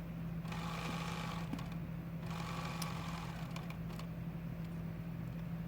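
A sewing machine stitching a quilt block, running as a steady continuous hum with a fine rapid needle rhythm, close and fairly quiet, without speech.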